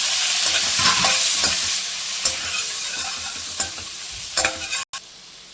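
Paneer pieces sizzling in hot oil in a pan, a loud steady frying hiss broken by repeated scraping stirs of a spoon, close up with no talk.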